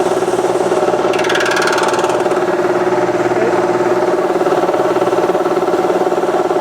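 An Alkin SCUBA-grade HPA air compressor runs steadily at close range, a continuous mid-pitched mechanical drone with a faint rattle and hiss, no voices.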